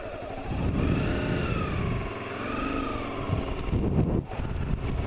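A Honda CBR250R motorcycle pulls away and accelerates, its engine note climbing in pitch with gear changes, close and loud with heavy wind rumble over the microphone.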